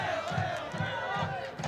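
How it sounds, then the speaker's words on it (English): A high school soccer crowd in Saline roars and jeers in protest of a referee's foul call on a Hornets player, a dense, sustained wash of shouting voices with rhythmic surges of noise. "Saline crowd isn't agreeing with the official at all on this play"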